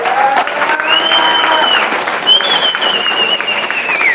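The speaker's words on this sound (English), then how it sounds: "So a round of applause for them." An audience applauding steadily, a dense wash of clapping that holds throughout, with a few whoops and whistles rising above it.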